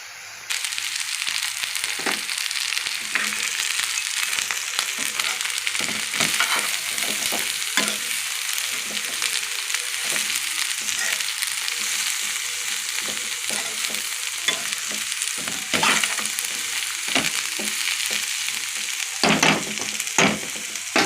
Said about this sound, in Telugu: ఇప్పుడు క్యాబేజ్ వేసేద్దాము